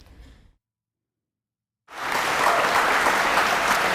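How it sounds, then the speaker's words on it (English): A brief murmur drops into silence, then loud, dense audience applause erupts and holds steady as a thunderous wall of clapping, close and continuous. "that was a thunderous applause in comparison to Cambridge"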